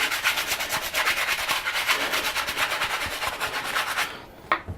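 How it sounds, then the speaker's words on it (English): Model parts are scrubbed hard with a bleach cleanser, giving a fast, steady, rhythmic rubbing and scraping close up that stops near the end. "soft scrub with bleach. They get a scrub down"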